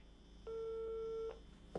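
A telephone signal tone sounds once, a steady beep lasting under a second, followed by a short click, faint against a quiet room.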